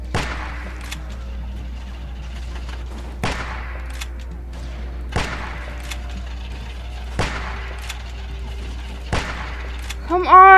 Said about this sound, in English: Come on, how many shots do these guys need?